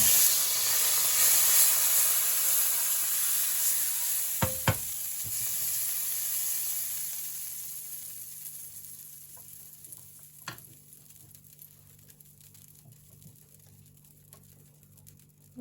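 Melted butter sizzles and hisses in a hot crepe pan, loud at first and then slowly fading to a faint simmer, with a couple of sharp clinks partway through.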